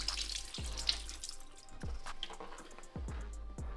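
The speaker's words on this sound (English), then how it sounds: "Give them a wash as well." Cherry tomatoes rinsed under a running kitchen tap: a steady splashing stream of water into a sink, broken by a few short stops and restarts as the hands move the tomatoes.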